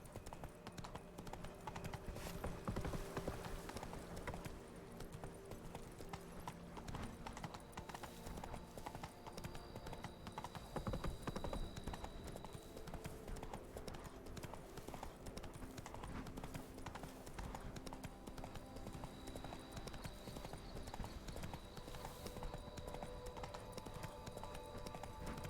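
Roach, the horse in Witcher 3, trots steadily, with an unbroken run of hoof clip-clops over faint game ambience, at a low, even level throughout.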